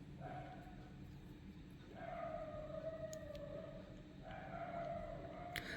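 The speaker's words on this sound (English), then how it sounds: "there's a lot of stray dogs in my area and they're just shouting" Stray dogs howl and bark in a neighbourhood: drawn-out, wavering howls in two or three bouts, fairly distant and faint, with a few brief sharper sounds over a low background.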